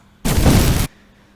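Explosion sound effect in a sound design project: a single loud, dense broadband blast lasting about half a second, cutting off abruptly into near silence, with no voices.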